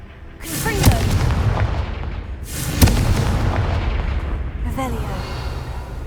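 Blasting spell explosions in the video game Hogwarts Legacy: two loud booming bursts with crackling tails about two seconds apart, plus a fainter third blast near the end, over a steady rumbling game soundscape.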